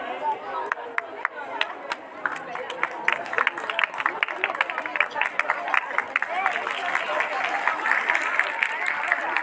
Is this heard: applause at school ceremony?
yes